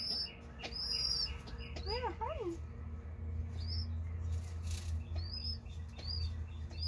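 A pet bird coos and peeps close by, giving a few brief high peeps and a short warbling coo over low room hum, with a person speaking briefly.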